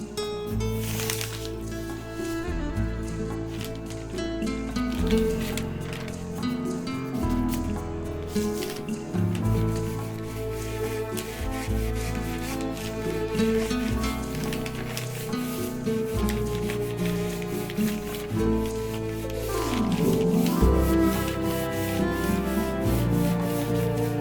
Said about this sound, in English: And now I'm going to polish it with my favorite